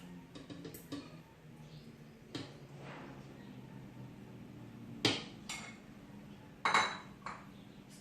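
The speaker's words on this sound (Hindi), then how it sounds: "सबसे पहले मैं ब्लेंडर में इन पीचेस को डालूंगी।" A few dull thuds and clinks of peaches dropping into a blender jar, spaced apart over faint background hum.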